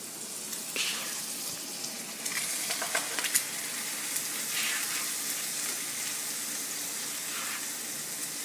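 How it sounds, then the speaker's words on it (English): Turkey burgers frying in an electric skillet, a steady close sizzle and crackle with a few louder spits and pops, no talking. "So I'm just going to take them with a spatula and just place them inside my electric skillet to cook."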